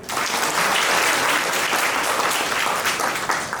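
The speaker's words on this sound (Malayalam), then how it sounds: "എല്ലാവരും ഒന്ന് കൈയടിച്ച്." An audience at a charitable trust gathering claps steadily, a dense, even wash of applause close by that keeps going without pause.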